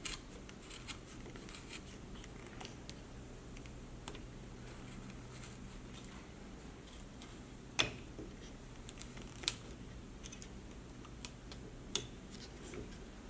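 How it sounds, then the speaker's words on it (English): Wood for a carved cowboy caricature cracks faintly as it is cut away. Quiet scraping and ticking runs throughout, broken by a few sharp, isolated snaps. "it's just the wood getting cut in there"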